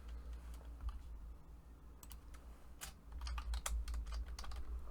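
Close computer keyboard typing in irregular runs of quick clicky keystrokes, growing busier toward the end over a low hum, no speech.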